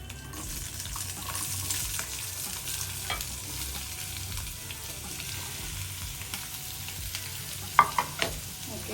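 Cucumber with curry leaves and green chilies is stirred in a pan, giving a low, steady sizzle with soft scraping and a few louder clinks near the end, with no talking.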